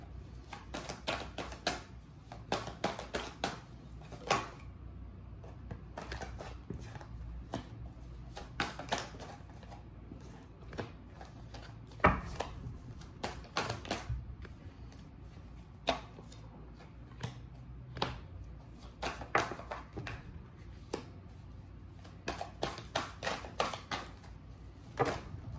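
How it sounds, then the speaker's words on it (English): Tarot cards are laid down one after another on a surface, making many soft close taps, slaps and shuffling flicks in irregular bursts with no talking. "So first I'll place the cards down"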